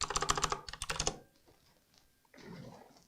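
Quick, clustered keystrokes on a computer keyboard, loud and close for about a second, then a pause and a softer rustle of activity.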